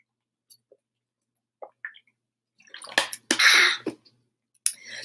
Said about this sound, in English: Now I'm going to have some water.